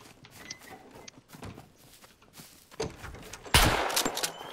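Shotgun fire in the survival game SCUM, a few scattered quiet pops followed by a loud, sharp blast near the end, with gunfire crackle trailing after it.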